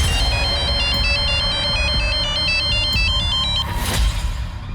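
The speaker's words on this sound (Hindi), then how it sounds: "उस दिन परी का फोन आया था मुझे" A mobile phone ringtone plays a repeating electronic melody of bright stepped notes, loud and close, for several seconds before stopping, with no voices.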